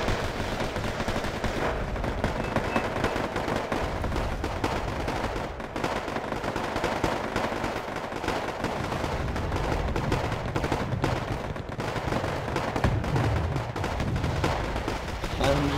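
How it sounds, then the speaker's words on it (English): Mortars fire in the Wargame Airland Battle strategy game amid a constant battlefield din, with dense repeated thumps and crackling gunfire layered over one another at steady high volume throughout. "Mortars firing."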